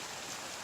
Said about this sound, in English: stream behind me. A little mini waterfall there.